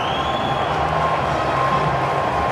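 Large crowd at a 2006 Chappell Hadlee Trophy one-day cricket match in Christchurch, New Zealand, cheering and roaring loudly and continuously, with scattered clapping and shouts blended into a dense wall of noise.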